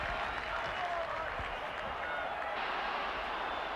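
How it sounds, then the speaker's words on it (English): A rugby league stadium crowd roars and applauds after Wigan score against Leeds, a dense, sustained wash of cheering heard from a distance at moderate level. "the crowd in uproar"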